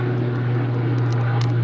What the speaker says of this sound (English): Got an airplane going on overhead here